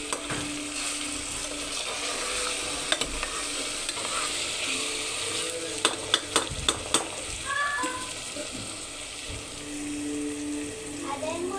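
Onions frying with masala, coriander and mint in a pan, giving a steady sizzle with stirring scrapes and a few sharp clinks of a utensil midway.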